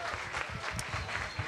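Café concert crowd clapping, a continuous, fairly soft patter of hands with some uneven individual claps, heard at a moderate distance.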